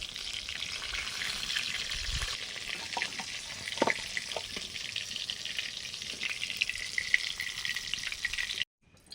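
Stuffed sweet potatoes fry in a pan of oil with a steady, close sizzle and occasional crackles and stirring, ending abruptly in silence.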